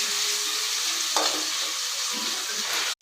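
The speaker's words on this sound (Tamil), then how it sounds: "பச்சை மிளகாய், அப்புறம் தக்காளி போட்டு நல்லா ஃப்ரை பண்ணுறாங்க." Curry leaves, green chillies and tomatoes frying in hot oil for an egg gravy, giving a steady, close broadband sizzle with a brief stirring scrape midway and no talk.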